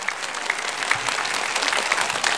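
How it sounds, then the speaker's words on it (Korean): A church congregation applauding during a New Year sermon, steady full clapping from many hands throughout with a faint voice underneath. "박수."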